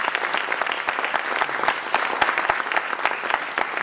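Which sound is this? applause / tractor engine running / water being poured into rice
applause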